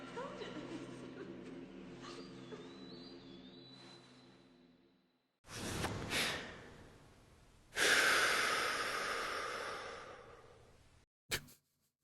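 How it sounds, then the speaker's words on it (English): Loud, heavy breathing in a video game scene, with long drawn breaths and sighing exhales in separate bursts, close and quite prominent, after a stretch of music. "Unnecessarily loud breathing."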